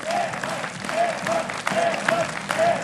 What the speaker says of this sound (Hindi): वाह, तालियां बजा दें भाई डॉक्टर साहब के लिए, तालियां।